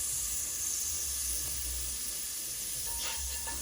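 Roughly three tablespoons of butter melt in a pan for mac and cheese, giving off a steady, close hiss and sizzle with faint crackles and no talking.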